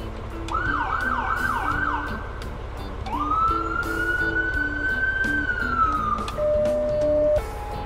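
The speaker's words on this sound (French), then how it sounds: "Donc d'ici, j'ai aussi accès aux sirènes." Fire engine siren cycling through a fast yelp, then a long rising wail, followed by a steady tone, loud and close with a background drone.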